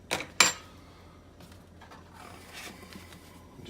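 A fork clinks against a bowl while mixing a wet marinade for venison jerky, two sharp metallic taps up front followed by softer scraping and stirring.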